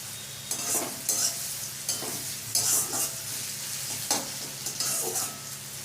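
Onions fry in hot oil in a pan for a tilapia fish curry and are stirred now and then, a continuous sizzle swelling into bursts of scraping and hissing at each stir, close and fairly loud.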